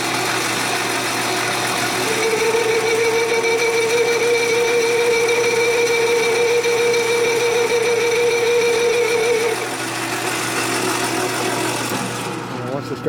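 A metal lathe makes a loud, steady machining drone as it cuts a part at roughly four to five thou, with a sustained tonal whine through the middle that drops away near the end.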